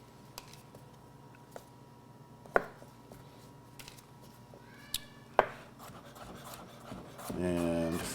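A knife trimming and cutting garlic on a board, sparse separate taps and cuts with quiet gaps, close and faint, followed by a voice near the end.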